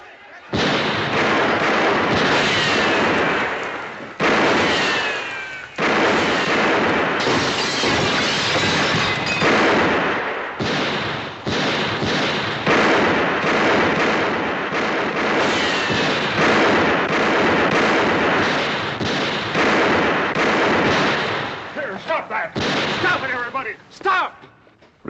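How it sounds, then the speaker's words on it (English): Rapid volleys of gunshots fired over the heads of riders in a 1959 Bonanza western crackle and boom almost nonstop, loud and dense, with shouting voices near the end. "Let's put a few shots over their heads. That should scatter them."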